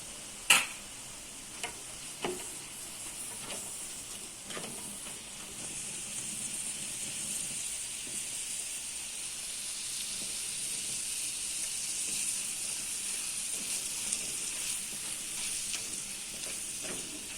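Liver sautéing in a pan for Gaziantep-style liver kavurma gives a steady, close sizzle that builds and continues throughout, with a few sharp clinks of utensils near the start.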